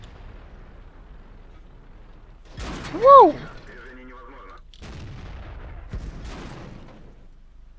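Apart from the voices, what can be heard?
tank cannon shots in video game, T-62A tank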